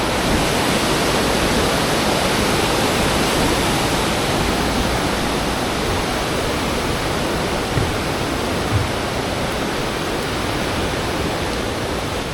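Mountain waterfall rushing beside the trail near Yangpok shelter in Seoraksan's Cheonbuldong valley, a dense, steady roar of white water that stays loud and close throughout with no pauses.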